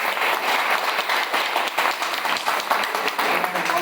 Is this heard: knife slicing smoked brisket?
no